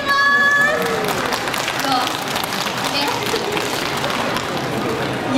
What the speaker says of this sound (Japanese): 開幕戦来てくれる方大きな拍手お願いします